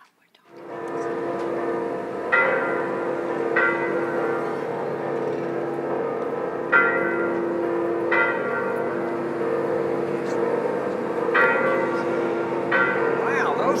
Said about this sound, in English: Wow, those bells sure are loud.